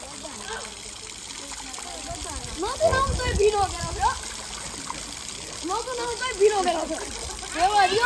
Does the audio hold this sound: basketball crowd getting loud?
no